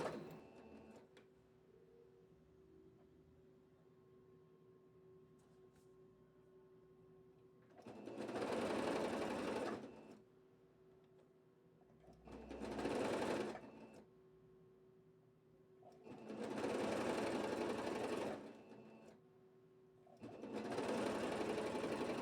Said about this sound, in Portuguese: Você vai costurar as duas laterais com esse meio pé de máquina